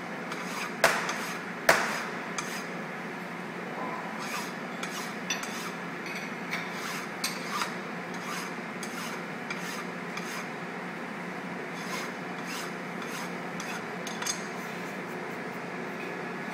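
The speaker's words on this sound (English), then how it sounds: "deburr our block." A hand file deburrs the edges of a metal block being squared, producing quiet repeated rasping strokes with a few sharper metallic taps near the start, close and fairly soft against low background hum, with no talking.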